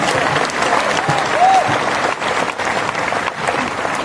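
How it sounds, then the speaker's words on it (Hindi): Audience at a Hindi poetry event in Udaipur breaking into loud, sustained applause, a dense crowd of clapping that swells and then tapers slightly. "हिंदी कविता के इस संवाहक के लिए एक बार जोरदार तालियां बजाइए"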